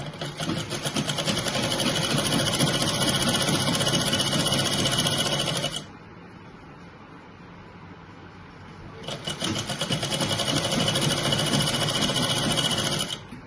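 An electric sewing machine stitches a pair of pants in a steady, close whirring run, pauses for a few seconds of quiet, then resumes its rapid mechanical chatter to the end.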